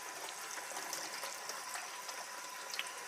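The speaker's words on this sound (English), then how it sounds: "Just going to rinse the kidney beans and the chickpeas." Canned kidney beans and chickpeas are rinsed under running tap water in a kitchen, producing a steady, close hiss of flowing water with small splashy bursts that continues without pause and with no voices.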